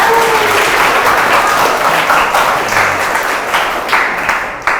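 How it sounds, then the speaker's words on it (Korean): An audience applauds to welcome a university professor before a public science lecture, a loud, full burst of clapping that holds steady and then gradually thins and tapers near the end. "큰 박수 부탁드립니다"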